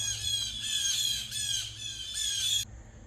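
Loud, repeated squawks and squeals from birds in a garden, a sustained harsh chorus of overlapping calls that cuts off abruptly near the end.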